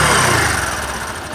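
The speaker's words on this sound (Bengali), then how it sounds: "এবার আমি আপনাদেরকে বাইকটা সাউন্ড কোয়ালিটি দেখাবো।" A 2019 Discover 125 cc motorcycle engine idles close by with a steady, even rumble that holds for the whole moment, alone with no voices.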